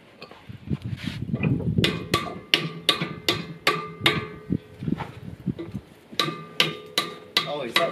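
A hammer strikes repeatedly while a barbecue is built at a house, sharp metallic knocks in a steady rhythm, roughly one or two per second, with softer clattering and scraping early on, fairly close and clear.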